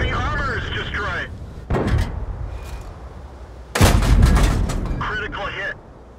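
Tank cannons fire in the video game World of Tanks, with two heavy booming shots followed by rumbling decay, while a voice talks over the action.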